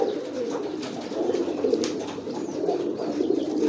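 A pet pigeon coos in low, throaty murmurs over a steady, dense background, continuous and fairly close without clear breaks.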